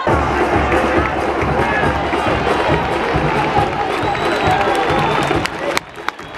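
A stadium crowd of Deportes Tolima supporters cheers and applauds in a dense, continuous roar, with shouting voices mixed in and a few sharp claps near the end.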